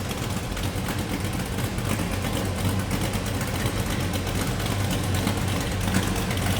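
A 1955 Chevrolet Bel Air Nomad wagon's 350 small-block V8, bored 30 over with a mild cam, idles steadily at close range, a continuous low rumble with a slight lope and no talk over it.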